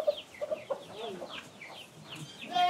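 Chickens on a small village farm in Bayramiç cluck in a quick, uneven series of short calls, close by and fairly clear, with no talking.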